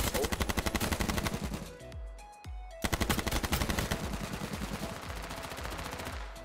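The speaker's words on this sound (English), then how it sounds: "Where are them shots coming from?" Rapid bursts of automatic gunfire in the video game H1Z1, loud and close, firing in a fast steady rhythm, breaking off for about a second, then resuming in another long sustained volley.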